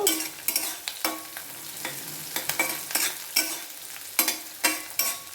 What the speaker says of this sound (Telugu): కొద్దిగా కరివేపాకు వేసుకుందాము వేపుకుందాము